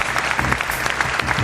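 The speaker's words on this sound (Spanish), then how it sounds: "Pido un aplauso para él, Nando Hernández," Dense, steady audience applause at a Spanish talk event, loud and close, filling the whole moment with no voices over it.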